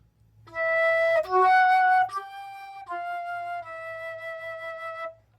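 A flute plays a short chromatic phrase of a few sustained notes, moving in small steps, clear and close with brief gaps between notes.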